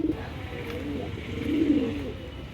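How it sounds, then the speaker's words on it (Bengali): Khaaran pigeons cooing close by in a low, rolling murmur, the soft coos swelling and fading in a steady series. "কত সুন্দর খাড়ান পায়রার, দারুণ খাড়ান পায়রা।"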